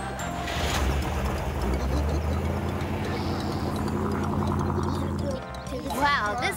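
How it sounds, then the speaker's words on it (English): Engine of a 1995 car starts up and runs as a steady low rumble throughout, ending with a brief rise in noise near the close, with no talk in the clip. "I'll just start the engine"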